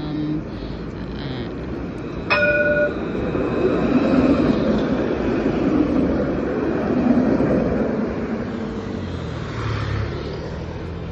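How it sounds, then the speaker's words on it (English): A tram pulls into the Messina tram station, its steady rumble and hum building from near the start and continuing for about eleven seconds, with a brief bright squeal or chime early on. "So this is the tram. So there it's coming,"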